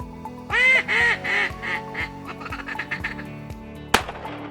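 Ducks quack in a loud run of several calls early on, then softer scattered quacks, out in the open during a morning duck hunt with decoys set, ending with a sharp knock.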